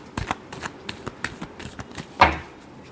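A deck of tarot cards is shuffled by hand in a quick series of papery riffles and flicks, ending with one louder slap, close and clear with no voices.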